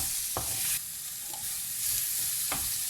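Parsley stirred briefly in a hot frying pan, a soft steady sizzle broken by a few quick spoon scrapes and taps against the pan, fairly quiet and with no voices.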